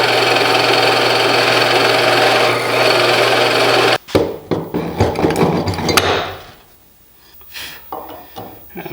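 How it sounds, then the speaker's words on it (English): A drill bores the center pin hole in a wooden torsion box assembly table, giving a steady motor whine for about four seconds that cuts off abruptly into scattered knocks and clatter. "So I'm going to drill the center pin"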